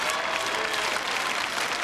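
A studio audience on a live French TV show claps in a dense, continuous wash of applause, loud and even for the whole stretch.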